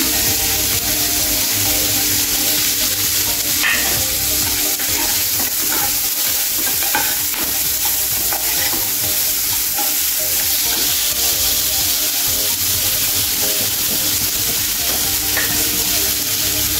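A medium onion, finely chopped, fries in oil in a pan for dhaba-style lasuni methi, a loud continuous sizzle with constant stirring clatter throughout and no talking.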